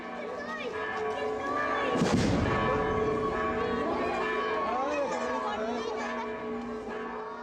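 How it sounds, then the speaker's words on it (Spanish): Church bells ring continuously as a loud rocket bang bursts out at a patron saint festival procession in San Marcos Mexicaltzingo, Mexico City, with crowd chatter in the background. "La salida se da en medio de un intenso repique de campanas, estruendo de cohetes"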